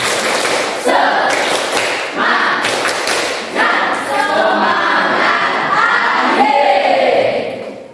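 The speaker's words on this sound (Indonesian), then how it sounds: "Tepuk semangat." A class of pupils performs the rhythmic 'tepuk semangat' spirit clap indoors, loud bursts of hand claps and thumps with group shouts, repeated in several rounds across the whole stretch.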